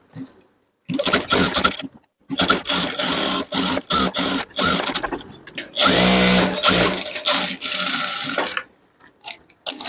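A sewing machine stitches around the edge of a blouse in fast, buzzing runs broken by short pauses, close and fairly loud.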